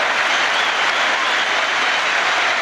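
Football crowd applauding a goal by Andy Cole for Manchester United against Newcastle United in a 1999/00 Premier League match, a dense, steady wash of clapping and stadium noise filling the whole stretch.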